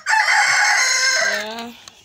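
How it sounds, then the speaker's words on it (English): A rooster crows once nearby, a loud drawn-out call that trails off into a lower, fading note. "My chickens are in the backyard."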